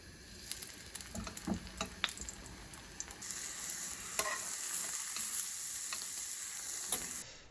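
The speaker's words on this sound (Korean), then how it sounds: "밀가루 이제 바르고 계란물 입혀서 노릇하게 익히면 됩니다" Steady sizzling of floured, egg-battered croaker fish frying in a pan, with occasional clinks and stirring noises over a continuous hiss.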